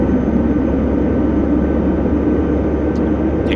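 A BN-2T Islander's turbine engine spooling up at low idle, a loud steady roar and whine held for the whole stretch without a break.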